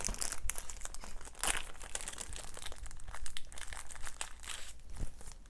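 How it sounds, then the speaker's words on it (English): Plastic card sleeves crinkle and crackle as they are grabbed and handled during a 1986 Donruss wax pack break, a steady close-up rustling with brief louder crunches. "And grab these card sleeves."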